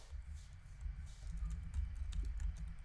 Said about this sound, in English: My typing is super bad this time.